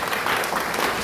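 A church congregation claps together in a dense burst of applause, loud and close, filling the short moment.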